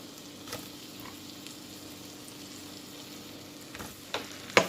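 Mushrooms frying in butter or margarine make a quiet, steady sizzle, with a couple of faint stirring clinks and a sharper utensil tap near the end.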